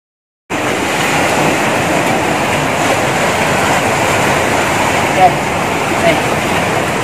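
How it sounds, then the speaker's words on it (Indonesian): Ocean waves surge in a steady, loud roar at a beach cave on Mengan beach, a continuous wash of surf close by with no clear breaks. "untuk menenangkan ombak laut ini, nah ini udah mulai mengecil ya, udah nggak seperti tadi"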